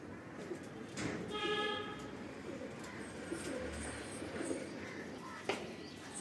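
Pigeons for sale in Latur coo softly and repeatedly close by, with a few chirps, over a steady background hum.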